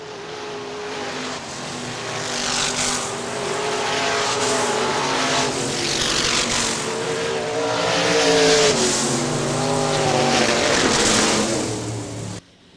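IMCA Modified race cars roar around the dirt oval at Hartford Speedway Park in Michigan, engines droning loud and steady as the pack passes, with rising and falling revs and a track announcer talking over them.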